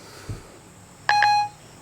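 A short electronic two-tone chime from a phone as Siri is activated, bright and clear after a faint thump, close and alone.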